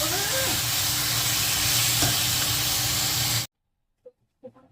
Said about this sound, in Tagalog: I am gonna add the beef liver. I'm gonna mix it.